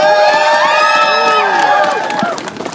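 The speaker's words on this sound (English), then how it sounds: "You're cheering" A loud, close crowd cheers and whoops throughout at an outdoor protest rally against a foreign temporary worker program, with overlapping high shouts and calls that ease off slightly near the end.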